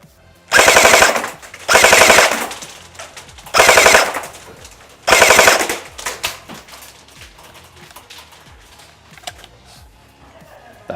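Arcturus Centaur AK airsoft gun on a 7.4V battery firing four loud, close full-auto bursts, each roughly a second long with short pauses between, followed by quieter mechanical clicks and handling noise.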